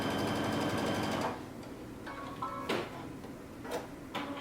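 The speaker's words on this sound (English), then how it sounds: "Now I'm going to stay stitch my neckline" A sewing machine stay stitches the neckline of a cape in a rapid, close mechanical run that stops after about a second, followed by a few quieter ticks and short stitching bursts.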